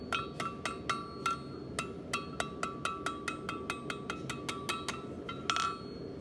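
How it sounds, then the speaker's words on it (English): A very small ball peen hammer taps a hand-forged metal heart pendant on an anvil: about twenty light, ringing metallic strikes in a quick, fairly even rhythm, close and alone. "This is really delicate work, so I'm going to use a very small ball peen."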